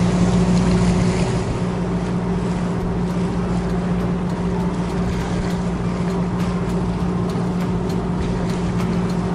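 A boat cruises up the Clarence River, its engine drone steady and loud throughout, with water rush and wind noise mixed in and no voices.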